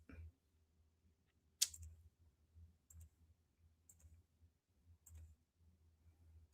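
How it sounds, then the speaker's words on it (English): Computer mouse clicking at a desk: one sharp, loud click followed by a handful of softer clicks spaced roughly a second apart over a faint low hum, with no voices. "Sorry if you're hearing my clicking."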